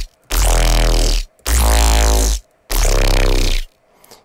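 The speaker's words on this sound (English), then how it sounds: "Today we're going to be doing this squelchy neuro bass." Squelchy neuro bass synth patch made in Xfer Serum, played as three long, loud, heavy sustained notes separated by short gaps, with no talking.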